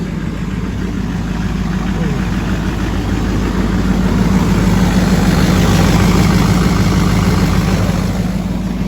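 A 2006 LBZ Duramax diesel engine idles with a steady, loud low rumble and constant vibration, running on stock exhaust throughout.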